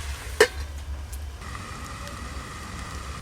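Piring greens (a leafy shak) wilting in a pan as they are stirred, with one sharp scrape early on, then a soft steady sizzle over a low background hum.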